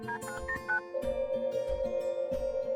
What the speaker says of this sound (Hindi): विद्युत अपना फोन उठाता है और ईशा को कॉल करता है।